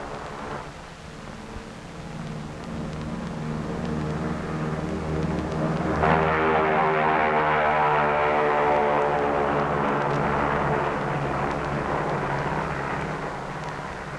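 The B-29 bomber Dave's Dream in flight toward the Bikini target, escorted by other planes: a steady, loud propeller-engine drone with stacked harmonic tones that swells and brightens midway, then holds, with no talk.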